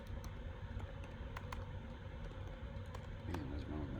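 Soft keyboard typing clicks in scattered bursts, faint and close, with low background hum and a brief voice murmur near the end.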